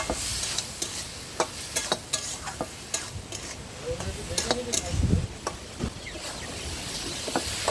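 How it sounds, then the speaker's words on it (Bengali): Green chili and ginger paste masala fries in a pan at an outdoor stormy-weather cooking spot, with a steady sizzle and repeated sharp scrapes and clicks of a stirring utensil throughout. "মশলাটা ভাজা হয়ে গেছে, কষানো হয়ে গেছে, এবার জল দিয়ে দিচ্ছি"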